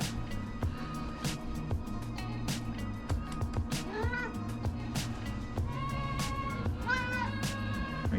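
A cat meows several times indoors, short rising calls scattered among clicks and household clatter, fairly faint and close.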